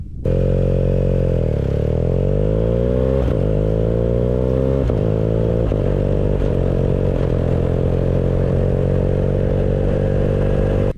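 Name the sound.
motorcycle riding on bitumen with Shinko E705 tyres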